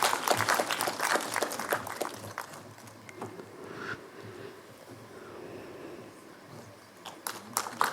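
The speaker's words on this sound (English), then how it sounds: "Ladies and gentlemen, once again, a big round of applause." Applause for a professor at an environmental sustainability conference session, a fairly loud burst of clapping at the start that thins to scattered claps and murmur, then swells briefly again near the end.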